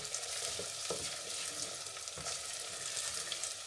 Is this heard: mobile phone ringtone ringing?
no